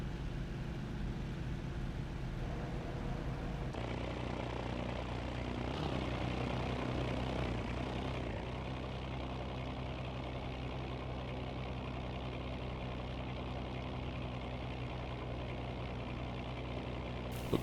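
Propeller fighter plane engine droning steadily on the final landing approach in a World War II flight game, a loud continuous hum with slight shifts in pitch and no voices.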